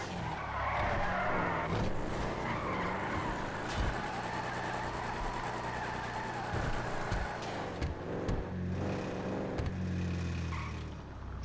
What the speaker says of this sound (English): if I pump the car up a little bit, and then do it, burnout city